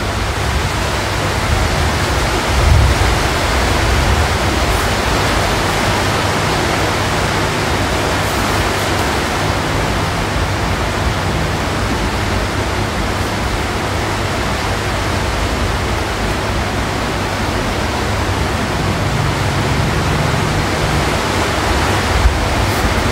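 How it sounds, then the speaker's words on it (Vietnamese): Heavy rain pours down in a steady, loud broadband roar that fills the whole stretch without a break, with no voices over it. "Mưa rồi ồn mọi người."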